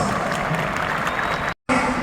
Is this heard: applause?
yes